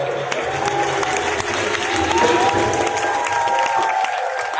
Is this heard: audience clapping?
yes